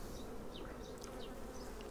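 Honey bees buzzing at an apiary hive inspection, a dense, steady drone of many insects close by with no talk.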